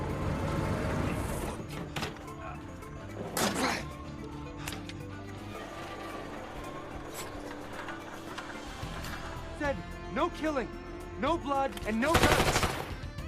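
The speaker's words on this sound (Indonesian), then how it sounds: "Terjadilah tembak-tembakan di antara mereka." Bursts of gunfire crack out in sharp volleys in a film shootout over a tense background score, with a loud final blast near the end; a brief voice is heard.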